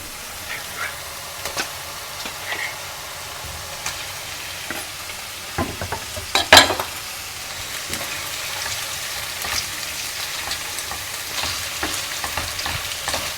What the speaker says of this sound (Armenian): Մի փոքր էլ այսպես մսի հետ եմ ամենը տապակում